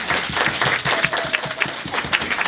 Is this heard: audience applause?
yes